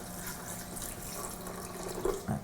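Warm water poured over cashews in a kitchen, a steady running, splashing pour that stays moderate and continuous, with a couple of brief clinks near the end.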